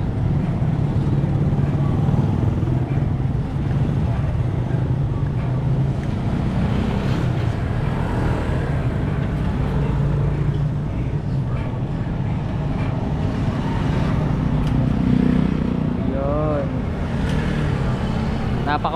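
A small boat's motor runs steadily near an island, a constant low droning hum with wind buffeting the microphone, while someone talks over it at times.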